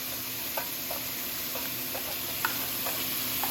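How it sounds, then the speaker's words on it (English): Shrimp and lump crab sizzle steadily in a pan while a utensil stirs them, making light intermittent scraping clicks over the constant hiss of frying. "And then we'll stir it all together."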